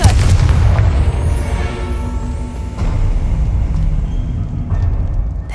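A Confringo fire spell explodes in the Hogwarts Legacy video game with a heavy booming blast at the start, followed by a rumbling, crackling tail that fades over several seconds.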